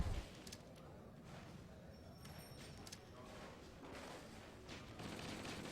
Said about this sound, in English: and some shooting for the last one